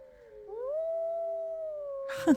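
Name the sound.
wolves howling in video game WolfQuest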